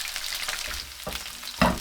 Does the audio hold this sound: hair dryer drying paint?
no